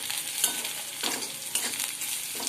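Onion frying in a pan while making spicy wheat shevaya, a close low sizzle punctuated by several light scraping stirs at roughly half-second intervals, with no talking.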